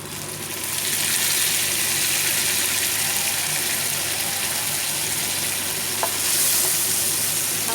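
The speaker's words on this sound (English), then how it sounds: "Now I have to add warm water." Warm water poured into a pan of chicken gravy, setting off a loud, steady sizzle and bubbling hiss that holds close and constant, with a faint clink near the end.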